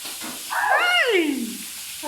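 Food sizzles in a frying basin: a sudden loud hiss of hot oil bursts up, bubbling and crackling, then slowly settles to a softer sizzle.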